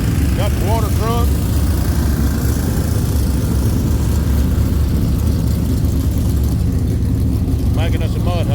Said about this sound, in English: Got the water truck.